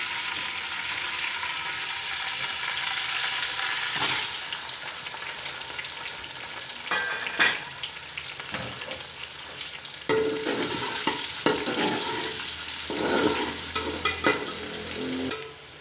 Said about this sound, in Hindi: इसी ऑयल में प्याज डालते हैं।